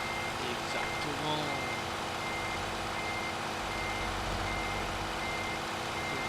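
Reversing beeps from a truck in the Euro Truck Simulator 2 driving game, a faint steady tone running under low engine rumble while a person speaks briefly.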